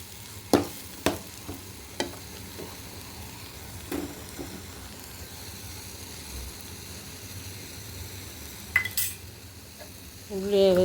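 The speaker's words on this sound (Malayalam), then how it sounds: "ഉള്ളി സൈഡിൽ നിന്ന് നീക്കി വെച്ചിട്ട് ഇതൊന്ന് മൂപ്പിച്ചെടുക്കും." Onions and prawns sizzle in a frying pan while a utensil stirs them, with a few sharp scraping clinks against the pan over a steady, fairly quiet hiss.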